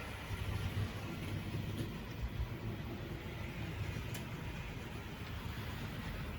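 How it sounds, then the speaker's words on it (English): Wrenn tank locomotive model train running on Tri-ang Super 4 track, a steady continuous rumbling whir with faint rail clatter, moderately loud and close, with no talking. "So I'm hoping now to drive this little train out from the long siding, and there it goes."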